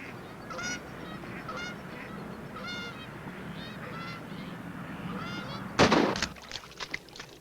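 Geese honking during a waterfowl hunt, repeated clear calls from a flock, followed by a loud gunshot blast and a few sharp fading echoes.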